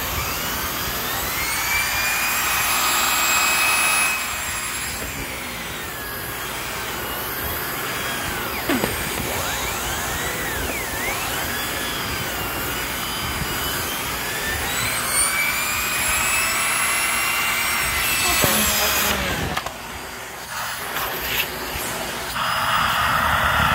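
A Simplicity Synergy S40P vacuum cleaner runs loud and steady with a high whine and airy hiss, its pitch wavering as the relief valve kicks in, then dipping near the end.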